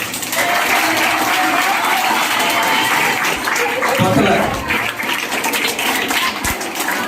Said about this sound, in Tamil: முதல்வர் மணிவனருக்கு ஒரு பலத்த கரகோஷம்